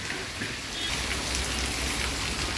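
Steady rain falls outdoors in a village, a continuous broadband hiss with a soft low rumble underneath, even and unbroken throughout.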